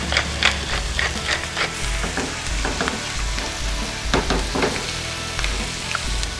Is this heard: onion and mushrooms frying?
yes